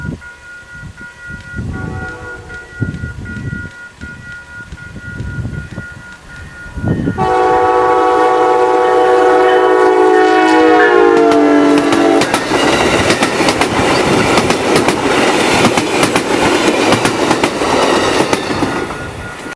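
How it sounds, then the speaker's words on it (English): An Amtrak Wolverine passenger train led by a Siemens Charger locomotive approaches and passes loudly, sounding one long sustained horn blast before the roar and clatter of the cars take over. "another westbound Wolverine would come into view with the Charger leading"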